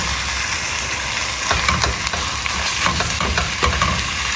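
Half a kilo of pork mince fries with garlic in a pot on an overnight hike, giving a loud, dense, hissing sizzle, with stirring scrapes mixed in, heard right up close.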